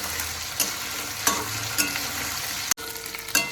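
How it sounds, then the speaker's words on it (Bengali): Ginger paste sizzles and fries steadily in a pan while a spoon stirs through it, giving a constant crackling hiss broken by a few sharp scrapes and clicks. "আদাটা দিয়ে আমি মিনিটখানেক নেড়ে নিয়েছি।"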